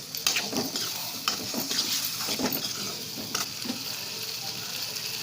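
Black peas stirred and sautéing in hot oil with spices in a pan, a steady broadband sizzle with repeated scraping strokes of the spoon throughout, close and moderately loud.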